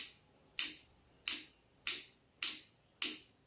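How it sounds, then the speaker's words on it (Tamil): A water purifier's power adapter, switched on to check that it works, gives five sharp ticks at an even interval of roughly two-thirds of a second, close and crisp over a quiet background with no speech. "அந்த டிப் டிப்னு சவுண்ட் வந்துச்சுன்னா அது வந்து பார்த்தீங்கன்னாக்கா அடாப்டர் ஒர்க் ஆகுது"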